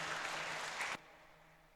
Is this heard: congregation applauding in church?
yes